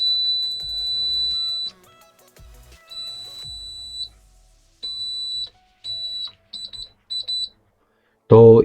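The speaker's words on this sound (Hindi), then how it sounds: "अब जब भी मैं इसे प्रेस करूँगा तभी हमारा बजर काम करेगा।" An electric buzzer wired to a push switch sounds in bursts each time the switch is pressed: a long shrill tone, then several shorter beeps of varying length, with faint handling clicks between and a brief voice at the end.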